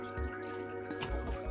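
Water drips steadily from a groomed Spoodle's soaked coat, soft irregular patters close by in a quiet room with a low background hum.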